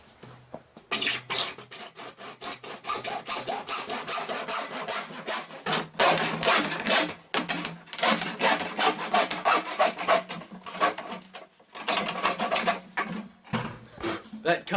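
A hand hacksaw cuts through a pipe in steady back-and-forth strokes, each rasping pass loud and close, with short pauses between runs of sawing.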